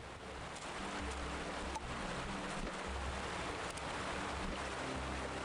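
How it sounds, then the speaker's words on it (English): Heavy rain pours in the game TUNIC as a dense, steady roar of downpour that stays close and loud throughout, with no talk over it. "It's raining too hard."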